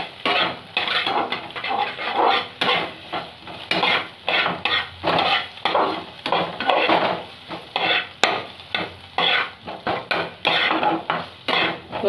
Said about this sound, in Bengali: তো দেখো আমি ভালো করে ভাজছি জিনিসটাকে